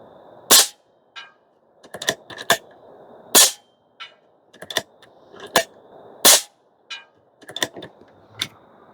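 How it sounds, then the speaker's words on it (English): An Airmaks Krait L Pro air rifle firing AEA pellets outdoors gives sharp, loud cracks spaced a second or so apart, each with a brief snap and metallic action clicks between shots. "All right, one more shot."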